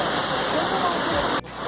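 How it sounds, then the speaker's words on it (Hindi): A roadside waterfall on the route from Gangtok to Lachen in North Sikkim pours hard and close, a loud dense rushing hiss that cuts off sharply near the end. "that's the waterfall there,"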